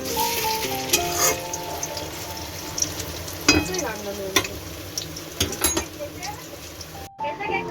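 Food sizzles steadily in a pan while a utensil scrapes and taps against it, with a voice talking intermittently over the frying.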